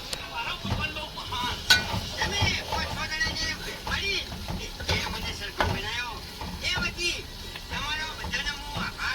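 Tempering (vaghar) for masoor dal sizzles and crackles in hot oil during evening cooking, a close, busy frying sound running under near-constant talk.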